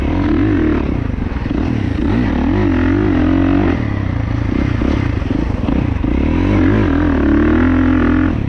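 A 2024 Kawasaki KX450 dirt bike engine runs loud and close, its pitch rising and falling as the throttle is opened up through the mid-range.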